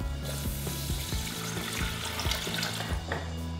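Milk is poured slowly into a flour roux for béchamel destined for lasagna bolognese, making a soft, continuous liquid pour and gurgle close by, with no voices.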